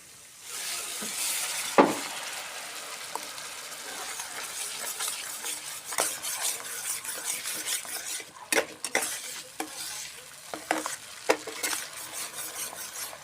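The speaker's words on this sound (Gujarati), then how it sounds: "હવે આપણે આમાં નાખી દઈશું આ ટમેટાની પ્યુરી" Tomato puree added to a pan of pav bhaji and stirred, with a continuous soft sizzle under repeated clinks and scrapes of a utensil against the pan, close and moderately loud.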